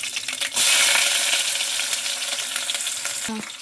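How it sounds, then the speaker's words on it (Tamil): Mustard seeds hit hot oil for Tamil sambar cooking, a sudden loud sizzle with scattered crackling pops that holds steady at close range, with no one talking. "எண்ணெய் காய்ஞ்சிருச்சு கடுகு சேர்த்துக்கலாம்"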